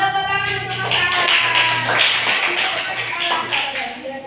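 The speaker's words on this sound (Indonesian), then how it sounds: "Tepuk tangan untuk masalah." Hands clap together in a primary school classroom, a short burst of quick claps from several people, close and fairly loud, with a voice speaking over it.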